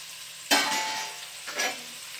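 Sliced onions sautéing in oil for a Thalassery-style chicken dum biriyani, a steady hiss of frying broken by two brief scrapes of stirring, close and fairly quiet, with no talk.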